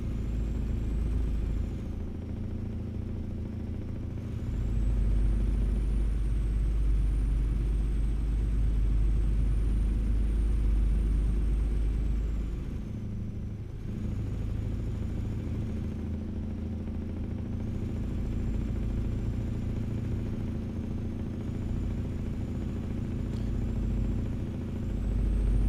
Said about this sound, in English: Oh, the loud engine sounds like it's yours.